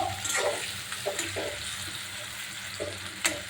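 Sliced onions with a little salt fry in hot oil until reddish-brown. A steady, soft sizzle runs throughout, broken by a few light stirring scrapes and clinks, with no talking.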